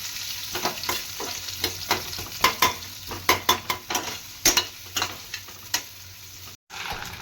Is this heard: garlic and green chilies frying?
yes